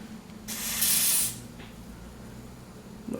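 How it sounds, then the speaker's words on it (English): A single hissing burst of spray lasting under a second, close by, followed by quiet room tone and a faint rustle at the end. "go ahead and spray our first layer where we want our wig"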